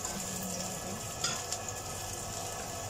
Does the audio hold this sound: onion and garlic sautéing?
yes